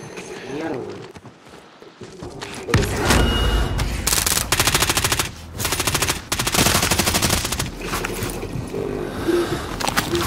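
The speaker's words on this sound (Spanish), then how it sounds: "Están disparando" Bursts of rapid automatic gunfire in the Warzone video game, starting after a quiet few seconds and continuing loud and close with short gaps, while a voice talks over the shooting.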